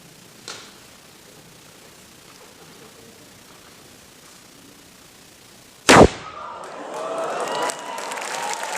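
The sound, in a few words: potato cannon firing potato through water stream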